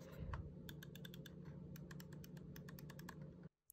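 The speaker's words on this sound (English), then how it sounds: "here comes a little bit of a click test." Razer DeathAdder V2 Pro wireless mouse buttons clicked repeatedly by hand, a rapid series of crisp, close clicks in uneven bursts over a low background hum, ending abruptly.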